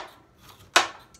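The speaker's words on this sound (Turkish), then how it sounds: "Şimdi biraz doğrayayım bakayım" A knife chopping into a block of frozen, icy kokoreç gives one sharp, loud chop in a quiet kitchen, with only faint handling noise around it.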